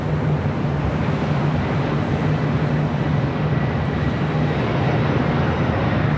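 A Boeing 787 Dreamliner jet airliner departing Los Angeles International Airport, heard as a steady, distant broadband roar with a low hum, unchanging in loudness for the whole stretch.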